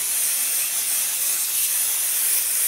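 Odiz 505 adhesive glue sprayed onto fabric for a Boro Sashiko piece. A steady, close, loud hiss of aerosol spray runs without a break.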